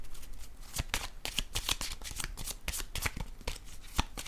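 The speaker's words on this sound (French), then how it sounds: "Je vais piger une carte rose." A deck of oracle cards is shuffled by hand, giving a dense, continuous run of close, crisp riffling and slapping with no talk over it.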